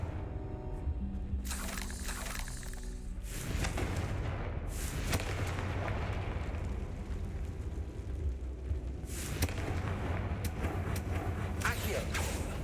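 Fiery Confringo spell blasts whoosh and burst in Hogwarts Legacy, several loud eruptions spread across the stretch with a rumbling low wash between them and sharp crackling bursts near the start and end.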